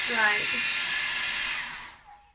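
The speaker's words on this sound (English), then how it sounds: "So I'm going to dry this with my hairdryer." A hair dryer blows with a steady, loud hiss close by, a brief voice under it at the start, then it switches off near the end.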